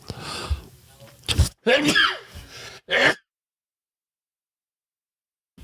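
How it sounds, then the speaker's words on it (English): A sudden sneeze bursts out amid a few short breathy vocal sounds, then the sound cuts to silence. "Hold on, I gotta sneeze."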